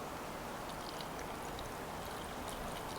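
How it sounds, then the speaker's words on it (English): Water pours steadily into a pot of jalapeno chilies being prepared for hot sauce, a continuous close rushing and splashing that runs evenly throughout without any talking. "lastly we're going to add the rest of our water in"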